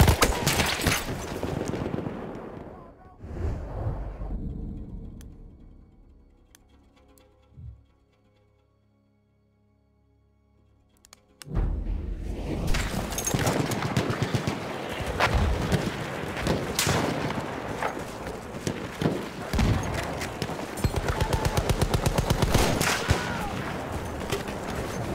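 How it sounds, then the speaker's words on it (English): Gunfire in the Battlefield 1 video game on hardcore mode: bursts of heavy firing, then a near-silent lull with a single distant shot, followed by sustained, dense rapid fire and explosions. "Spotted a machine gun!"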